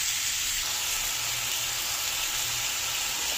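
Small pieces of jaggery cooking in a pan for sweet amla pickle, giving a steady soft sizzle and hiss that holds at an even, moderate level throughout.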